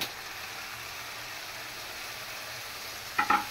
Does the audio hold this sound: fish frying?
yes